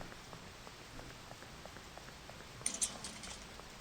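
Rain falling over a baseball field in a retro horror video game: a faint, steady patter with a couple of brief, sharper ticks near the end.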